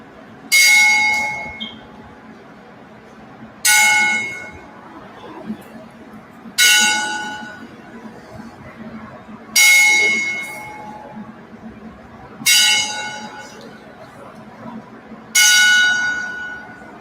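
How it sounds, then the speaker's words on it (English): A wrestling ring bell clangs in slow, evenly spaced strikes, each ringing out and decaying before the next, sounded as a ten-bell salute at a Great North Wrestling event in memory of Leaping Lanny Poffo. "let's have a 10-bell salute"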